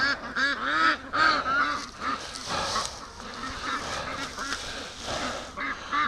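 Ducks and geese in a barn give repeated loud honking quacks that overlap in busy bursts, close by, with no talking.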